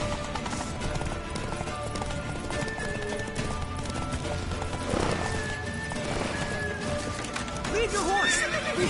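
Horses in The Witcher 3 whinny and neigh repeatedly over rapid galloping hoofbeats during a hectic ride, with shouted voices and battle noise mixed in.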